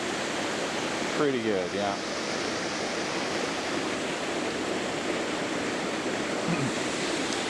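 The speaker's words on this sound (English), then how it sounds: "You can get this cascade here and going up there a bit." A cascading waterfall in the Blue Ridge mountains in fall pours out a steady, broad rushing roar that fills the whole scene, with someone speaking briefly near the start over the constant water.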